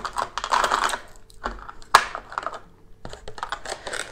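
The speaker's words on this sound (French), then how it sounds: "On va ouvrir la boîte de ce Kranz VP6." Cardboard packaging for a Cranns VP6 disc lock being opened, with rustling and scraping close up, a sharp snap or tear partway through, and softer handling noises afterward, no talking.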